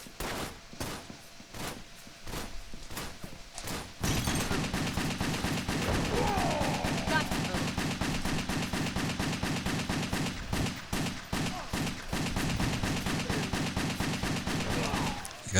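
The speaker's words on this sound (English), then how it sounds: "I took a lot of bullets before dying." Video game gunfire in Wet: after a quieter opening, loud, sustained rapid shots pour out in a dense, nearly continuous barrage.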